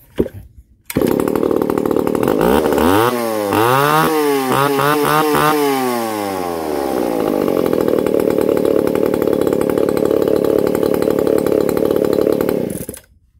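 A small chainsaw starts with a pull, revs up and down a few times, then settles into a steady loud running drone close by until it cuts off.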